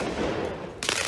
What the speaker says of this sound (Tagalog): Nang bato ng mga paputok ang ilang grupo ng mga nagpoprotesta sa western suburbs ng Paris, France.